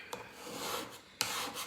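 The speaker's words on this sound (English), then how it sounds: "So when you just scrape off the paint, sometimes it leaves like what they call a ghost of the design." Paint being scraped off a Chalk Couture DIY sign, two sharp scraping strokes with a rasping stretch between them, close and fairly loud with no talking.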